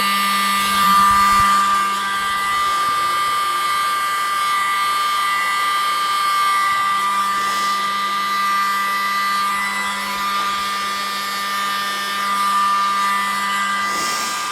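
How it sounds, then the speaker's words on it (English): A blow dryer whirs steadily with a constant high-pitched whine, close and loud, pushing wet pour paint, dipping slightly a few times but never stopping. "push back inwards with the blow dryer"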